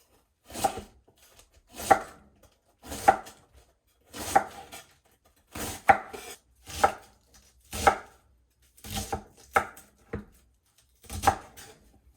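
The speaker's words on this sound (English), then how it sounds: "make sure that you're cutting, thin pieces" A knife chopping cabbage into thin pieces on a cutting board, about ten crisp, evenly spaced chops close to the microphone with no talking.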